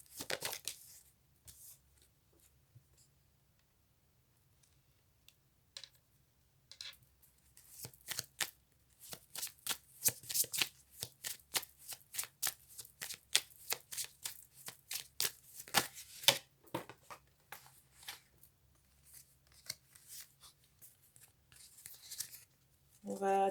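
Playing cards, a guidance-style tarot or oracle deck, being shuffled by hand: crisp rapid riffles and slaps building into dense bursts, close and fairly quiet, with long near-silent stretches at the start.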